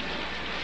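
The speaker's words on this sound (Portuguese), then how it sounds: "E agora, com toda essa chuva, nós temos relâmpagos." Steady heavy rain pours in a film scene, a dense unbroken hiss of drops at even loudness throughout, with no voices.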